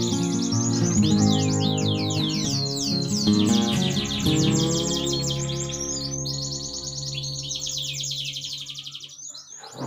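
Canaries sing and chirp, a dense, loud chorus of rapid trills and whistled phrases over a steady background hum, thinning toward a few repeated chirps at the end with no talking.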